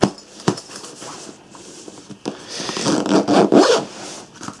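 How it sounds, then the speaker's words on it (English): Zipper on a Cabin Max travel bag being pulled closed in several quick rasping strokes with pauses, close and loud, ending in a longer run of zipping. "make sure we don't trap any clothes while we're zipping"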